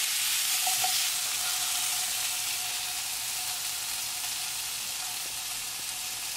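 Sautéed crookneck squash sizzles steadily in a hot pan as it is stirred, with a constant close frying hiss and a few faint scraping clicks, and no voices.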